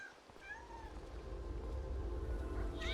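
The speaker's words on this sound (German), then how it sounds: "Diese Katze im Hintergrund." A cat meows faintly in the background behind a Final Fantasy XIII Lightning Returns game scene, with a few short rising and falling cries over a steady low ambient hum.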